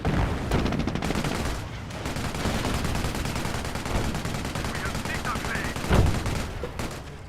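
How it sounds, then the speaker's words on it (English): Dense, continuous rifle and machine-gun fire in the World War II strategy game Company of Heroes as a Panzer squad comes under attack, loud rapid bursts layered over battle noise with a heavier thud near the end. "And now the Panzer squad is taking some fire."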